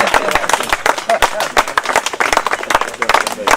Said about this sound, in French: j'aimerais qu'on applaudisse bien fort tous les...